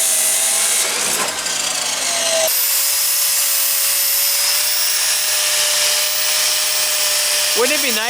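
A power drill bores out a car part so a new sleeve will fit, grinding loudly and steadily at close range with a rising pitch, while voices talk briefly at the start and end.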